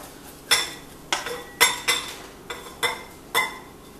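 Cooked rice being tipped from a pot into another bowl, heard as a series of about seven sharp metallic clinks and scrapes of spoon against cookware, spaced irregularly and close by, with no talking.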